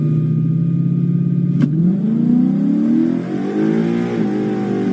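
A 2013 Mustang GT with a 6R80 automatic idles, then revs hard and rises in pitch as it launches, tires spinning, the roar climbing and holding close by.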